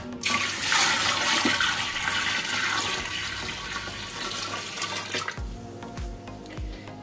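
Water poured into a pot of ground lemons, a loud gushing stream at first that thins out and stops near the end, followed by a few low knocks and clunks.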